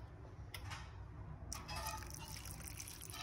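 Water pours briefly into a cooking pan in two short splashes, faint and close, over a quiet background.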